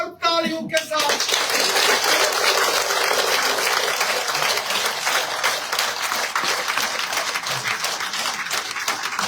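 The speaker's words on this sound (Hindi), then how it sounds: "हम जनाब मोहतरम अब्दुल चौधरी गनी साहब का जोरदार तालियों के साथ" A crowd gives loud, sustained applause welcoming Choudhary Ghani at a political gathering where Congress supporters join the BJP, dense clapping rising after a brief opening voice and continuing steadily, some cheering mixed in.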